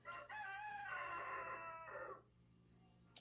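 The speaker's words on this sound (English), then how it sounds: "This rooster's here all day long and he screams all day long" A rooster lets out one long, loud crow lasting about two seconds, followed by a short silence and a sharp noise at the very end.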